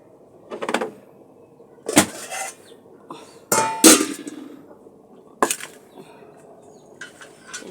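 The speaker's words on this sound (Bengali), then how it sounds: "দারচিনিটা গরম হয়ে গেছে, নেড়ে নিচ্ছি।" Cinnamon being stirred in hot oil in a cooking pan, with several separate metallic clanks and scrapes of the utensil against the pan spread across the clip, with quiet gaps between them.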